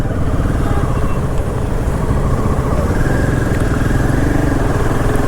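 Several motorcycles riding together in a Sunday morning group ride on the highway toward Khopoli, a dense, steady engine roar and road rumble filling the whole stretch without letting up.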